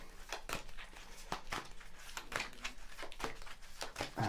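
Tarot cards are shuffled close up in quiet, papery bursts: soft repeated riffles and flicks in an uneven rhythm with no voice.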